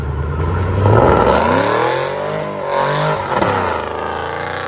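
A Chevy Camaro SS with a 6.2L LS V8, BBK full tube headers and a Borla ATAK exhaust revs up and down loudly and close, with a deep rising and falling roar.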